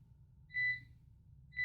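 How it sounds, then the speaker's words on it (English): Sharp electronic beeps picked up by a headset microphone during a Warhammer 40K Inquisitor – Martyr session: one longer tone and then a second starting, loud and clear over a low background hum. "that beeping is really picked up at my headset"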